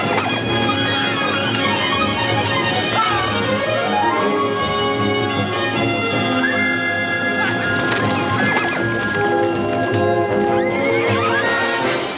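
A wild horse breaks loose from its herd in a Western film, with sharp whinnies and neighs over galloping hoofbeats, set in a dense, full soundtrack that stays loud throughout.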